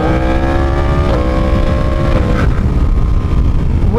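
A Yamaha R1 sport bike with an aftermarket full exhaust runs while being ridden, a loud steady engine drone with rising and falling harmonic pitch as revs shift, close and continuous, with no talk.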